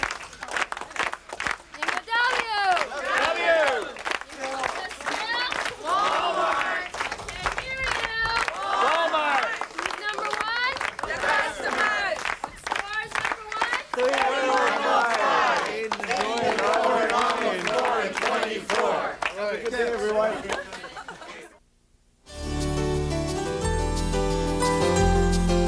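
A crowd of employees shouts a group cheer, many voices calling out together in rhythmic bursts with clapping. The cheer cuts off abruptly near the end and is followed by a different low-pitched sound.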